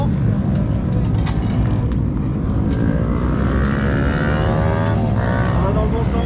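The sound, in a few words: racing scooter engine roaring on race track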